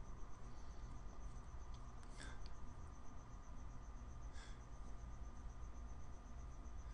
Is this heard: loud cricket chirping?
yes